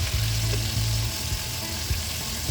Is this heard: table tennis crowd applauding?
no